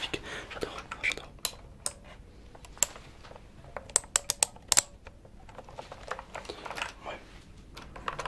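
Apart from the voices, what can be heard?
typing on a computer keyboard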